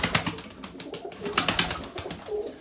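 Pigeons coo inside a coop holding several birds, including a grey youngster, with soft repeated cooing calls and light rustling close by.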